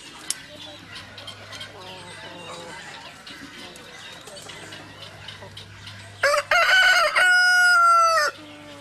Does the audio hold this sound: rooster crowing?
yes